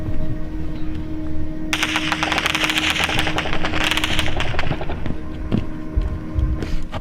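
Sustained automatic weapon fire in a combat zone in Ukraine, rapid rattling bursts that start suddenly and continue loud and dense, with a steady low hum underneath.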